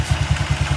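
A Vario 125 with an old bore and a CVT idles close by, its small engine giving rapid regular low thumping pulses in a brief, loud burst with no talking.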